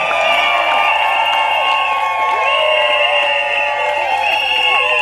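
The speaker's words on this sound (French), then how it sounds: "Applaudissez trop fort pour elle, s'il vous plaît." Guests at a civil wedding ceremony cheer, whoop and shout in a lively crowd, with loud overlapping voices and high calls filling the room continuously.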